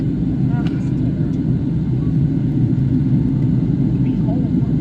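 A Boeing 757-300 cabin fills with a steady, loud low engine rumble during descent and taxi, constant throughout with faint voices in the background.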